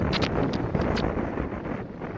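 Strong wind buffets a microphone outdoors while someone worm fishing for bullhead and carp reels in a fish, a loud continuous roaring rumble that covers the whole moment with no voices.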